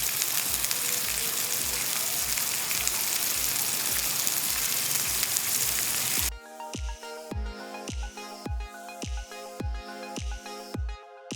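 A steady crackling sizzle of meat frying on a hot grill fills the first half, then gives way to rhythmic music with regular pauses.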